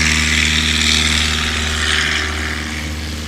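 A STOL plane at a Swamp STOL competition runs its propeller engine at full throttle for takeoff, a loud, steady droning roar close by that eases slightly toward the end.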